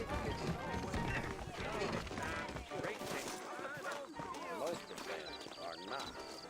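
Horses trot along a trail in Red Dead Redemption, with steady clip-clop hoofbeats carrying under continuous game dialogue and background ambience.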